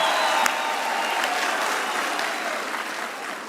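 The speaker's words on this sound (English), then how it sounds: "so give yourself a round of applause." An audience at a university graduation ceremony claps in a sustained, dense round of applause that fills the hall evenly and fades slightly toward the end.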